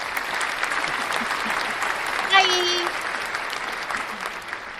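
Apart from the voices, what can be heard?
audience applause, clapping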